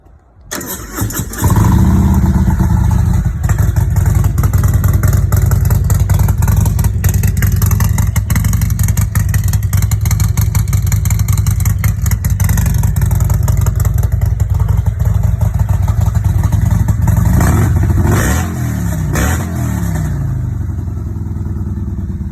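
A Harley-Davidson Road King's Milwaukee-Eight engine cranks and fires up, then settles into a loud, steady, deep rumbling idle with a few throttle blips near the end.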